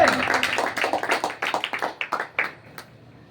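A church congregation claps together during a worship service, quick rhythmic hand claps that build and then thin out, with a voice present in the room.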